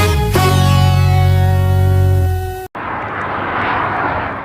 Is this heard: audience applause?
no